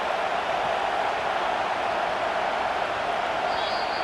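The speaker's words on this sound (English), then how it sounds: "It's early, but this crowd is fired up. Listen to this noise here." Stadium crowd in the college football video game EA Sports College Football 25, a dense, steady roar of fans with no breaks, sustained and loud throughout.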